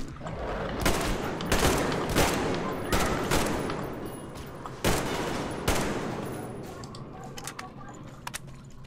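Repeated gunfire from ammunition being shot in the video game Metro Exodus, sharp bursts cracking out every second or so over a low rumbling backdrop, then thinning to a few lighter clicks near the end.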